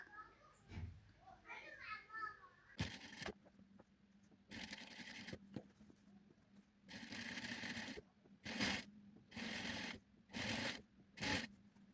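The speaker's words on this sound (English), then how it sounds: "So it's time for stitching now the nipple to nipple boning" A sewing machine stitches boning into a bustier cage for a corset, running in several short bursts of a few seconds each with pauses between them, close and moderately loud. Brief faint talk and small handling sounds come first.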